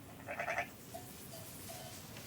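Sheep bleat in a sunbaked mountain valley on the island of Pantès, one clear bleating burst up close followed by a few fainter, shorter calls over a steady outdoor hush.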